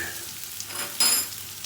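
Short burst of frying in an oiled pan for Asian-style corned beef hash, a soft steady sizzle that swells suddenly partway through as more food or oil hits the heat.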